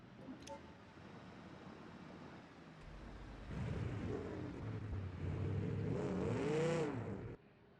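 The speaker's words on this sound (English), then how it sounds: "We're driving a manual drive car." Manual-transmission car engine in a racing game revving up, a low hum that swells into a louder rising and falling whine with gear-like pitch sweeps before cutting off.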